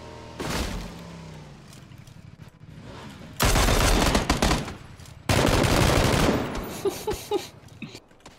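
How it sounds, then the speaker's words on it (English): Gunfire rings out from across a pond in PUBG, with sharp single distant shots early, then two long, loud bursts of rapid automatic fire close together, and a few trailing cracks at the end. "Someone shooting from across."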